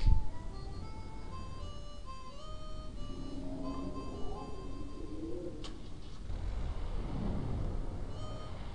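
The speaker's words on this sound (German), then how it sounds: "Und weg sind sie mit ihrem schwebenden Auto." A hovering car drives away in the Pokémon Colosseum video game, a soft electronic whir and hum with synth tones layered over it, drifting steadily along for several seconds at moderate level.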